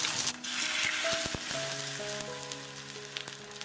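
Hot water poured into a wok of aromatics fried in oil (ginger, shallots, garlic, bay leaf, star anise, coriander root, dried tangerine peel) crackles in a dense sizzle with sharp pops, close and steady throughout.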